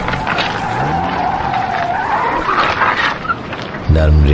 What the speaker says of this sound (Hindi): नरम रेत में टायर धंस गया।